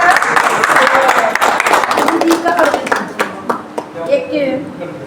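A crowd at a Diwali gathering in Sector 14, Noida, claps in welcome, a dense scattered patter of hands under ongoing talk that thins out toward the end.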